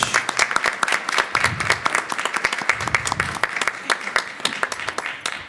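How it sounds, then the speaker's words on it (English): Audience members at a board meeting applaud Ms. Muniz with steady, moderately loud clapping from a small crowd, a few voices faintly underneath. "let's give another round of applause to Ms. Muniz"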